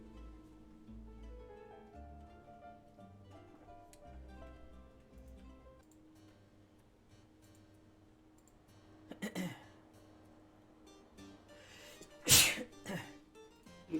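One sharp, loud sneeze bursts out near the end over quiet background music, following a smaller earlier burst, with a faint ticking underneath.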